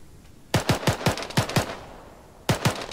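Machine gun fire in the video game Arma 3, a loud close burst of about seven rapid shots followed by a short pause, then two more quick shots, each with a sharp crack and brief tail.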